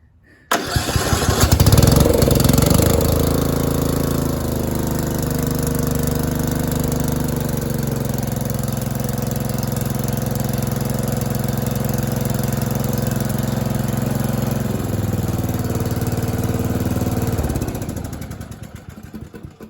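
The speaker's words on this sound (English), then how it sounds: "And now when I turn it to start, the engine will crank. The engine should start." A Murray rear-engine riding lawn mower cranks briefly and catches, then settles into a loud, steady idle that runs for about fifteen seconds before cutting off.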